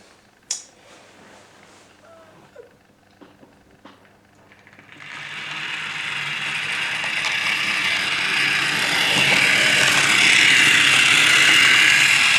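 An old Jouef CC 40101 model locomotive runs on its original motor. After a few clicks, a loud, steady mechanical whir and gear rattle starts up and builds, continuing close and alone to the end.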